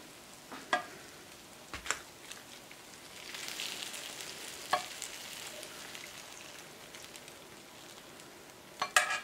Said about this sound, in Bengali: ওভেন থেকে নামিয়ে নিয়ে আসলাম এখন আমি এখানে সিরাপ দিয়ে দিচ্ছি